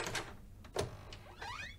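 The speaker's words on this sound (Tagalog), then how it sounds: "Teka, at bubuksan ko ang pinto." A door slides and clicks open with a few soft scraping and latch sounds, quiet and close, no voices.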